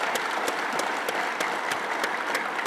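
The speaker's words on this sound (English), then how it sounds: "let's give you a big applause for the institution" Applause from an international audience at an official address in Bangladesh, a steady dense patter of many hands clapping evenly for the whole stretch at moderate loudness.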